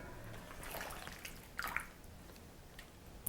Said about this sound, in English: And I'm just putting them right in the water.